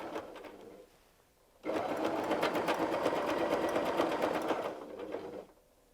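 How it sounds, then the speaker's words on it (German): A sewing machine quilts a patchwork quilt in one fast, even burst of stitching lasting about three seconds, close and clear, with quiet before and after. "Und wir nähen weiter."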